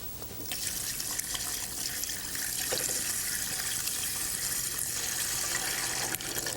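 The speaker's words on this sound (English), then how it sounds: "And we're going to add our milk." Milk pours in a steady liquid stream while Indian sweets are prepared with milk powder, butter and sugar, a continuous close trickling and splashing with no talk.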